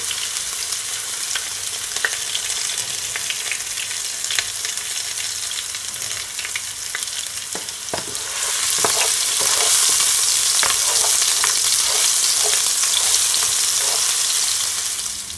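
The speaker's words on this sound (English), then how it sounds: "my onion and my garlic. And you're just gonna allow it to saute for at least 1 minute or so." Onion and garlic sauté in a hot pan for a jerk rasta pasta, a steady close sizzle with scattered crackles and stirring clicks that grows louder partway through, no voices.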